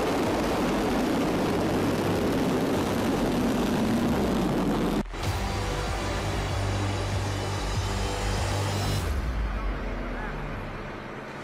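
An American command plane roars past, a loud broad propeller and engine drone that cuts off sharply midway and then resumes, with someone narrating over it.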